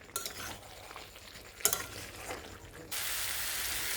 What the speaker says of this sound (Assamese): এতিয়া মই ঢাকনি নিদিয়াকৈ কোমোৰাখিনি 2 পৰা 3 মিনিট টাইম আৰু অলপ ভাজি ল'ম